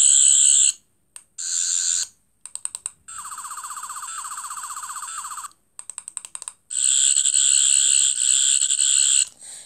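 A toy sonic screwdriver with an 11th Doctor sound chip gives loud, shrill electronic warbling buzzes in several bursts of different lengths, separated by short silences and a few quick stuttering blips.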